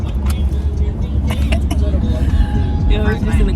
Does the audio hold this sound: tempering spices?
no